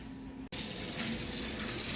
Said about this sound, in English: now what we're gonna do is got just some hot tap water